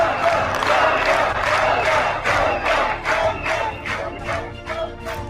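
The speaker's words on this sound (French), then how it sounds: "Mesdames et messieurs, sous vos applaudissements." A large crowd at a formal ceremony cheers and applauds, a dense steady roar of voices and hands that later turns into rhythmic unison clapping, loud and sustained.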